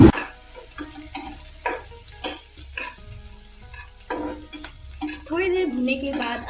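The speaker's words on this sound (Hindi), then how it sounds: "इसके बाद हम इसमें बारीक कटे हुए टमाटर डालेंगे। इसे हम थोड़ी देर भूनेंगे।" Finely chopped tomatoes sizzle and fry in a pan while being stirred, with steady crackling and occasional scraping clicks close by, growing louder and busier near the end.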